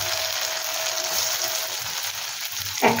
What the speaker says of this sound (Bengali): এবার দেখো, কড়াইয়ে তেল গরম করতে দিয়েছি, এবার কোপ্তাগুলোকে এর মধ্যে দিয়ে দেবো।